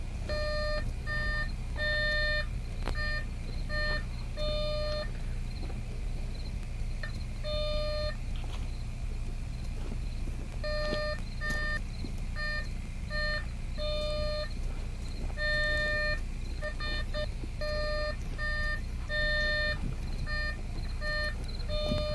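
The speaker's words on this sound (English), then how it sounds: "why are we using a metal detector" A metal detector sweeps a site at night, giving repeated electronic beeps in short bursts and pairs over a steady low hum, fairly loud and close, with no talking.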